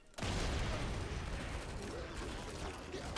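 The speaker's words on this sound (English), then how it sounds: "Where's that explosion come from?" A sudden loud blast opens a sustained roar of rumbling combat noise in the Evil Genius 2 strategy game, as minions fight during an agent assault on a base, a steady dense wash that stays loud to the end.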